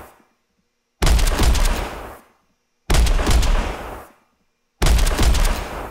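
Three heavy gunshots from Metro Exodus sound design, stripped of their mechanical layer, each a booming blast with deep low end and a long decaying tail, spaced about two seconds apart with silence between.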